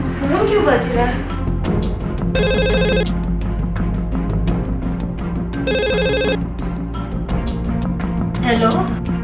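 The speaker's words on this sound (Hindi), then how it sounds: "फोन क्यों बज रहा है?" A telephone bell rings in two bright bursts separated by a pause, with people talking and household noise continuing underneath.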